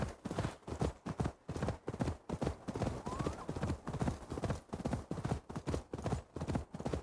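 A galloping horse in the video game Assassin's Creed Valhalla, its hooves pounding in a quick, unbroken rhythm throughout, loud and close against a soft ambient backdrop.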